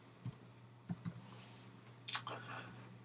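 Typing into the Facebook search box on a computer keyboard: a few isolated key clicks, then a short quick flurry of keystrokes, quiet and close over faint background hum.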